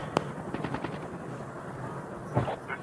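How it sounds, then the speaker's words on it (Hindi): Gunfire in Call of Duty: Mobile: a sharp single shot, then a quick burst of rapid rounds, and a couple more reports later on, all fairly distant and moderately loud over a dull background rumble. "सब जगह फायरिंग ही चल रही है यार"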